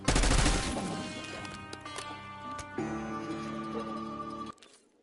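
Video game firearm shots open with a loud, dense burst of rapid gunfire, followed by ringing, tonal echoes that sustain and fade away.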